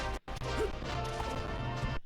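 Forward smash attacks connect in a Super Smash Bros. match during an online Red Bull tournament, sharp crashing hits repeating through the clip over a steady game music bed, with faint commentary in the background.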